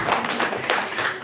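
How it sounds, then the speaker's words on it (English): Audience clapping in a hall during a question-and-answer session on teenage mental health, a dense, steady patter of many hands that holds at an even level for just over a second. "let's clap for the men who are very open and vulnerable"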